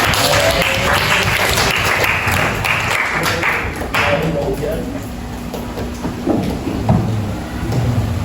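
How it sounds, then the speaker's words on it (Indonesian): A burst of high school classroom applause, many hands clapping loudly at once and then fading, with voices chattering underneath. "Boleh tepuk tangan buat Fauzan."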